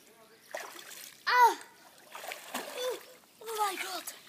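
Splashing from someone bathing in cold water: several short bursts of sloshing spread through the moment, mixed with voiced gasps and exclamations.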